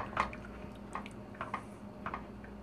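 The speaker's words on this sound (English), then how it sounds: "you're just going to keep stirring and whisking this soup until all the cheese is melted" A whisk stirs cheese soup in a pot, making faint, soft wet squishes and light clicks at an irregular pace.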